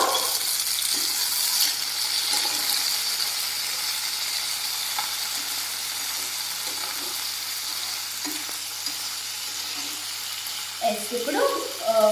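Tomatoes and chillies fry in hot oil, a steady close sizzle lasting several seconds, with a few stirring knocks near the end and no talking.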